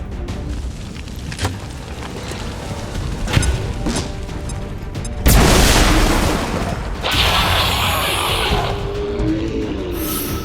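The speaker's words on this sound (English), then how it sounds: "Throw a grenade!" A grenade blast in the tactical game XCOM 2: clicks and light mechanical taps, then a sudden loud boom with a crashing burst that fades into a hissing, crackling rumble lasting several seconds.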